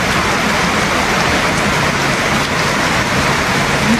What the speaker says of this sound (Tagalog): kumbaga ulan kasi malakas eh